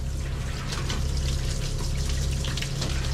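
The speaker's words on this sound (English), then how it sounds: "so I'm just gonna turn the water." Tap water runs steadily from a faucet to rinse a dog during a bath, a constant close hiss and splash of flowing water with no break and no talking.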